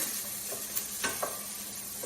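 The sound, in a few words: sauteing onions and garlic aromatics in a pan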